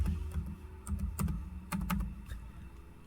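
A computer keyboard clicks close and quiet as a short word is typed, the keystrokes coming in uneven bursts.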